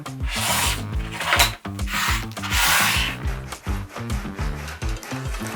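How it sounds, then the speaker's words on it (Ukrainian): Baked potato being grated on a coarse grater for a herring and green pea salad, a rapid rhythmic rasping scrape repeating in quick strokes, close and loud with no voice over it. "починаємо з натирання картоплі"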